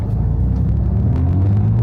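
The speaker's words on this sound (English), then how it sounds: "This car actually sounds really good, has a nice exhaust on it." Low, steady rumble of an RWB Porsche 911's engine and exhaust heard from inside the car, a deep continuous drone with no clear revving, loud and close.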